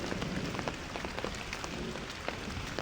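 Heavy afternoon rain pours steadily, a dense close hiss of drops hitting surfaces with scattered louder spatters, continuous throughout.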